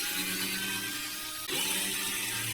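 Screws are removed from a plate on a DC10 RC car, giving a quiet, continuous mechanical ratcheting whir that shifts slightly partway through.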